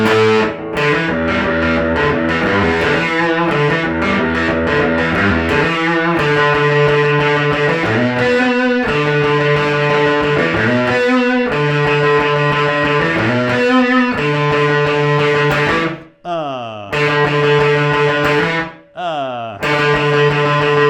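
Distorted electric guitar plays the ending of a song in standard tuning, loud driving riffs with chordal stabs and two brief breaks near the close, played alone.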